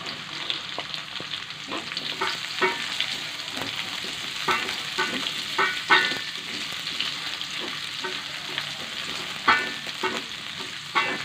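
Chili and vegetables stir-fried with crushed garlic in a pan for fried noodles with shrimp and green beans, a steady close sizzle broken by repeated scraping clacks of the spatula, no voices.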